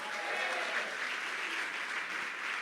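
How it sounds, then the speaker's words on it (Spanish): Applause in a church congregation during a service: a steady wash of clapping from many people, sustained and even throughout with no clear voices over it. "aplauso a nuestro Dios."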